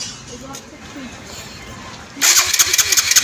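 An Apache RTR 200 motorcycle engine cranks on the self-starter and catches, bursting from quiet background into a loud, close, pulsing idle after a couple of seconds, with talk faintly underneath at first.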